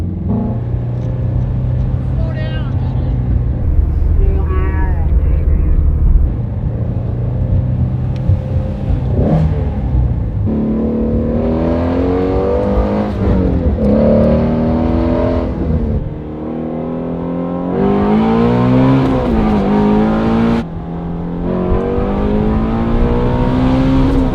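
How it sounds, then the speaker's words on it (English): A loud Ford Mustang Shelby GT350R engine revs repeatedly, rising and falling in pitch with throaty rumbling between bursts, close to the listener. "It's just this car sounds so loud."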